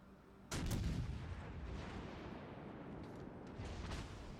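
Battleship main gun volley from the Prinz Eitel Friedrich in World of Warships: Legends, a sudden heavy boom followed by rumbling echoes and a few fainter later shots.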